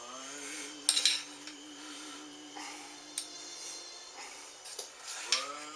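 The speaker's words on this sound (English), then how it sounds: "And then spread it around with a spatula or something" A spatula spreading cream cheese icing over no-knead cinnamon buns makes quiet, intermittent scrapes and light clinks, spaced irregularly and close by.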